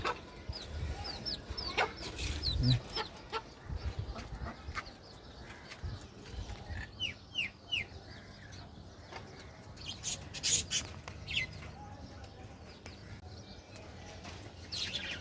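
Pet quail birds in a cage give short chirping and clucking calls in scattered bursts, nearby and moderately loud, with rustling and shuffling movement between the calls.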